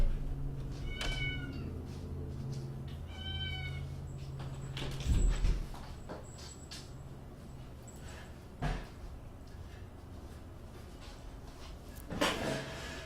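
Pet cat meowing indoors, with two distinct meows near the start and scattered soft thumps and rustles through a long, fairly quiet stretch.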